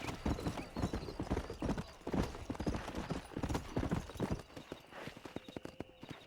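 Horse hooves clip-clop in a steady, brisk rhythm in the video game Red Dead Redemption, close and fairly quiet, with a faint whinny and no talk, thinning out toward the end.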